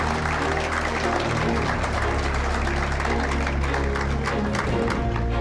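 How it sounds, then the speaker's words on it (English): A convention audience keeps up loud, sustained applause for Senator Price after her speech at a 2024 party convention, with the dense clapping filling a large hall and a low hum underneath. "Another round of applause to Senator Price."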